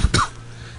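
One short, sharp human cough, close and abrupt, followed by a faint quiet tail.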